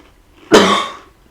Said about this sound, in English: We just coughed.